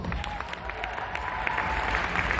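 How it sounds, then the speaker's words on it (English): Audience applause during an educational hairdressing or beauty class, a brief burst of many people clapping, fairly soft and slightly distant, with faint voices mixed in. "round of applause"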